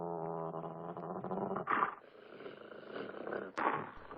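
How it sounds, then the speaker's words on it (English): A dog growls close by in a low, continuous rumble lasting several seconds, with two short louder snarling bursts partway through and near the end. "suddenly I hear a dog growling behind me"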